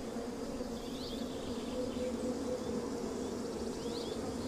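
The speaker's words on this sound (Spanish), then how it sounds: "para mí el zumbido de las abejas ha dejado de ser un problema" A steady, dense buzzing of many bees in the Villuercas hills of Extremadura, a continuous drone heard alone at moderate loudness with no pauses.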